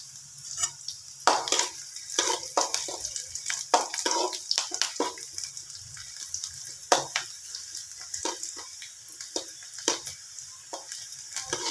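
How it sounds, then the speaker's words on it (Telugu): Onions tempering in hot oil for talimpu, a South Indian seasoning, crackle and sizzle steadily as a spoon stirs and scrapes the pan in irregular bursts, close and fairly loud with no talk. "ఇప్పుడు అదేవిధంగా నేనైతే తాలింపు అయితే పెట్టుకుంటున్నాను."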